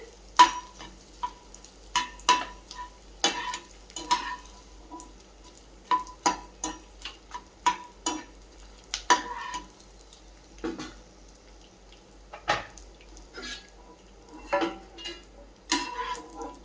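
Edible gum frying in ghee over a slow flame makes sparse crackles and sharp pops, mixed with occasional spoon scrapes against the pan, fairly quiet and close, with no voices.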